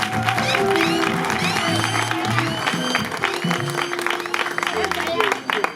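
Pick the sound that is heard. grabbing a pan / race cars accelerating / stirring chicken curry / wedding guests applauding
wedding guests applauding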